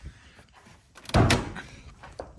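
Car bonnet on a Ford Sierra Cosworth being opened in a garage, a single solid thunk and clatter of the panel near the mic, with soft rustling before and after.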